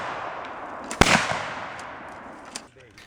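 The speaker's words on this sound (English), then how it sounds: "my campmates, Scott Isley and Ed Zoransky, up on the rifle range shooting the aggregate." A single sharp rifle shot cracks on an outdoor rifle range at a primitive camp fair, followed by a fainter distant report and a decaying echo.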